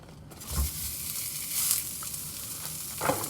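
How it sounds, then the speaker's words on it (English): Pork sausage meat sizzles and crackles steadily in a hot pan as its fat renders, close and continuous, with a few soft stirring scrapes. "I don't want the pork to brown. I just want it to render some of the fat out."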